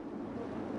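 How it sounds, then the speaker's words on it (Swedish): Storm wind at sea roaring over a sailboat in gusts of around 40 knots, a steady loud broadband rush with no talk. "Ja, Helene, nu har allt stormen kommit över oss. Man hör den i alla fall"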